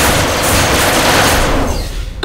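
Rapid, dense automatic gunfire in the video game UFO: Extraterrestrials rattles loudly and continuously, tapering slightly at the end.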